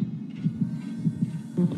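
Dead by Daylight's killer-proximity heartbeat pounds as a low, regular double-thump rhythm, fairly loud and close, with soft game ambience beneath and no talking.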